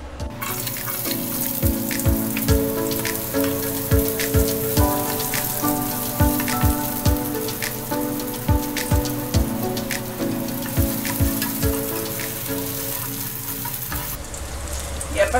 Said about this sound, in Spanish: En un sartén voy a empezar por poner primero la cebolla